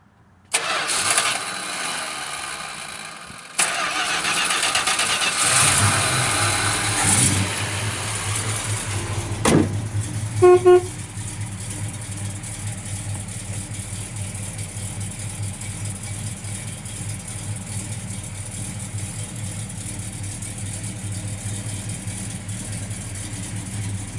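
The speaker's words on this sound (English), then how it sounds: "We'll fire this thing up and" A 1966 Plymouth Satellite with a 383 engine cranks, fires up with a loud roar and settles into a steady, rumbling idle that continues to the end, with no talking.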